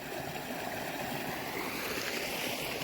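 Floodwater after heavy rain in Palanpur, Banaskantha, rushes in a continuous, even roar, close and steady with no voices.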